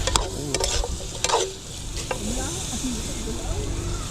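Paksiw sautéing in a pan by a river sizzles with a steady frying hiss, while a utensil stirs and scrapes in bursts near the start and people talk over the cooking.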